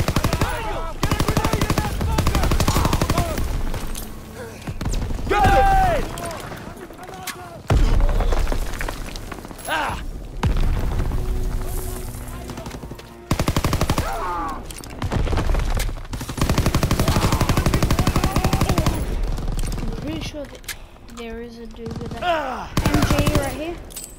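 PPSh submachine gun firing in Call of Duty WWII, loud rapid automatic bursts mixed with heavy battle gunfire, thuds and booms, with voices shouting in between.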